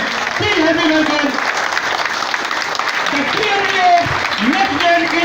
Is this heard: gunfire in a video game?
no